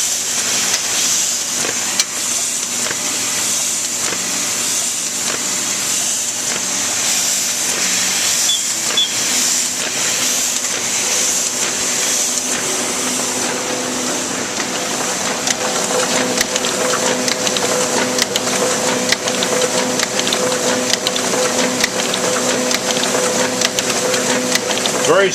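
A Ryobi 3302H two-color offset printing press runs with a steady, even mechanical hum and rhythmic clatter of paper feeding, a constant bed of machine noise throughout, with a voice talking over it.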